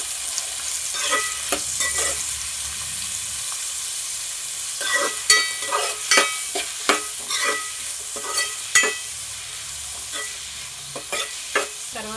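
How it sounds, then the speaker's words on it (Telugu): Sliced onions, about four for a kilogram of chicken, fry in hot oil with a steady soft sizzle while a spoon scrapes and stirs them in irregular clanking strokes, close and without talk. "ఆయిల్ పోసుకున్నాం కదా, వేడెక్కింది. ఉల్లిపాయలు వేసేస్తున్నానండి."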